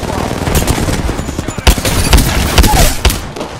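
Apex Legends gunfire cracks out in sharp, loud shots and quick bursts, spaced irregularly over steady game ambience.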